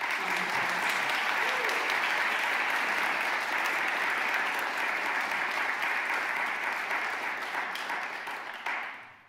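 Sustained, dense audience applause closing a Spanish music concert, a loud, even wash of clapping from many hands that holds steady for several seconds before tapering off at the end.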